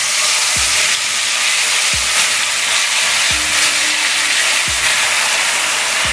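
Chicken chaap pieces frying in a kadai of mustard oil and ghee give a steady, loud sizzle and hiss throughout, with a few soft low knocks now and then and no talk.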